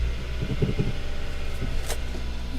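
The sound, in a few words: manual-transmission car engine starting and running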